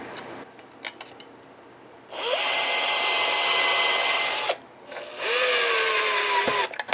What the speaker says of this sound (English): I always just put the claw in there and use a long drill bit.